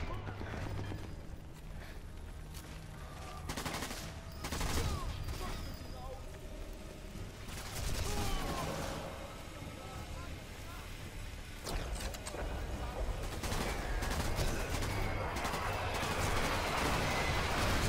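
Scattered gunshots ring out during a Sniper Elite 4 co-op firefight, coming as irregular sharp cracks over a busy background while players talk throughout.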